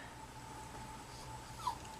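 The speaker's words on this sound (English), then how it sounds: "Oh my goodness, you hear that dog cry?" A dog cries and whimpers faintly in the distance, with a brief, slightly louder whine near the end over a quiet, humming background.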